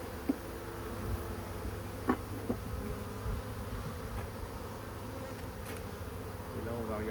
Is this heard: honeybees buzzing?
yes